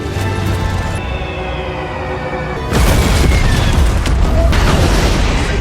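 An American bomber plane explodes in midair in a war film, with a sudden loud, heavy boom bursting out of a rumbling background and roaring on afterward.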